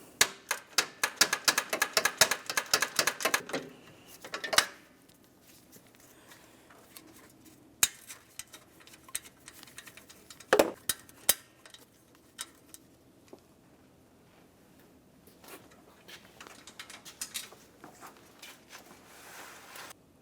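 A ratchet clicking rapidly while loosening 10mm bolts on the AC condenser bracket of a 2000-2006 Chevrolet Tahoe, with quick bursts of ticking followed by quieter scattered clicks and tool knocks, close by and without talk.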